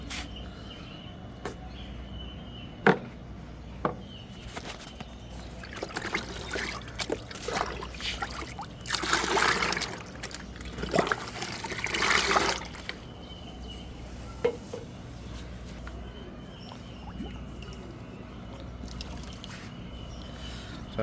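Water from a five-litre supply poured into a pigeon drinker, with trickling and splashing that swells in two louder bursts mid-clip among scattered clicks and knocks.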